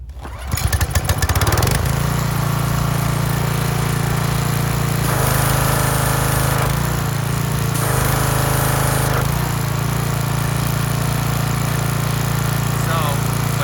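Small gasoline engine on a trashed pressure washer, running warm with no air filter, sputters to life and then holds a loud, steady drone with a few surges in revs. The sound carries on alone and close to the mic.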